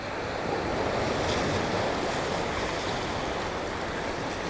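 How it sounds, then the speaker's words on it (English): Ocean waves break onto a black sand beach below coastal cliffs in a steady, loud wash of surf that never lets up. Wind buffets the microphone, and no voices can be heard. "And the waves breaking onto the black sand."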